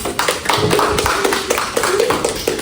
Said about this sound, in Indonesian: Tepuk tangan buat Tian dan Allah.